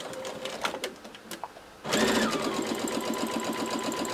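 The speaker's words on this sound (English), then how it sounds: "we're going to keep stitching like this all through our sets of petals" A domestic sewing machine stitches Dresden Plate quilt petals together: after a few soft handling clicks and a short pause, the motor starts up close and runs in a fast, even, rattling needle rhythm to the end.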